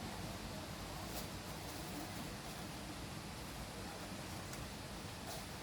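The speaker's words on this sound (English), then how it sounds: "I can hear the waterfall down there." Steady, broadband rushing roar of a waterfall at Nong Bua Lamphu, heard from a distance down a set of steps, continuous and even throughout with no talk.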